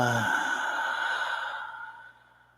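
A long, soft breath exhaled during yogic pranayama, starting full and airy and fading gradually to quiet, heard alone and close.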